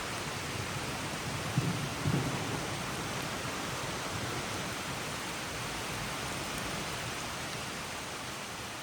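Steady heavy rain pours down during a storm along a river campsite, a dense continuous hiss with a brief low rumble early on, no talk.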